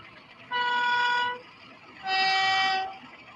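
A model train locomotive on a home layout sounds two clear horn toots, the second slightly longer, close and alone over a faint background hum.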